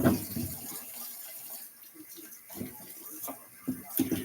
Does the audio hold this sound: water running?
yes